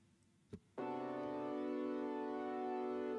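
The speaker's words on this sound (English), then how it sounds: "The diminished chord sounds like this." A single diminished chord rings out sustained and clear after a brief click, its tones holding steady and slowly fading, quiet overall with no talking.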